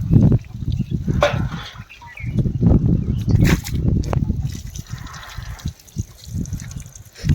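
Water splashes in bursts over a buffalo during bathing in hot sun, the irregular pours close by and mixed with ongoing talk and voices.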